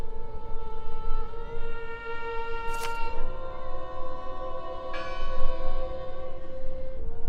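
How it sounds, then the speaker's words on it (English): A church bell rings in the Draugen video game. Sustained, resonant tones hang in the air, with fresh strikes around the third and fifth seconds, and no talk. "Listen! The bell!"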